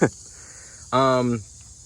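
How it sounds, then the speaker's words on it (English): A steady high-pitched cicada buzz runs throughout, with a short burst of a voice partway through. "pardon the cicadas, it's that time of year, of course"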